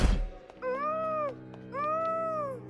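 A cat gives two drawn-out, rising-then-falling meows in a row, close and clear, following a brief thump at the start.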